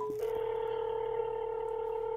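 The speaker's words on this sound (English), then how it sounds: "I'm gonna try making a call and we're gonna see if the phone connects." Samsung Galaxy A21 placing a phone call: a short keypad beep, then a steady dual-pitch tone that holds continuously, close and clear with no talk.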